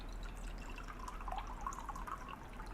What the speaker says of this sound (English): Need 300 ml of cold water into here.